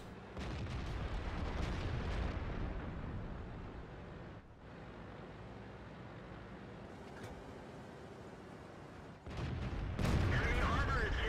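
Deep booming tank cannon shots from a World of Tanks battle on Westfield, a few heavy blasts with rumbling gaps between them, the loudest near the end.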